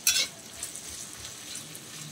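Sliced onions sautéing in a pan for a squid roast, a soft continuous sizzle with light stirring scrapes and a sharper burst of spatter at the start, no voices.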